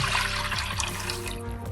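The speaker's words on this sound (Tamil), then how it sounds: "இப்போ தண்ணி ஊற்றிக்கலாம்" Water is poured into a pan of sautéed vegetables while cooking millet upma, a short, steady splashing stream heard close up with no talking.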